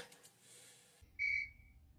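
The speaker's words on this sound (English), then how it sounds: "where did that whistle come from?" A single sharp whistle blast from a Jimmy Neutron cartoon scene, piercing and loud, lasting about a quarter second with a short fading tail after a quieter stretch of background sound.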